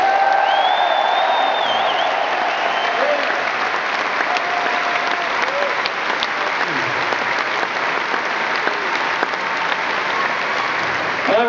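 A large concert audience at a show in Birmingham applauds the crew, a loud, steady wash of clapping with scattered cheers and whoops throughout.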